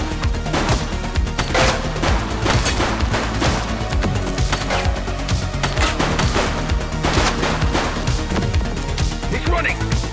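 Gunfire in the police game The Precinct: dense, continuous shots and impacts at high loudness, forming a chaotic barrage with no clear pauses.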